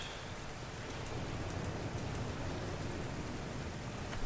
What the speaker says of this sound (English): And now that rain effect starts playing.